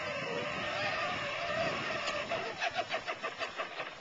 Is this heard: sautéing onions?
no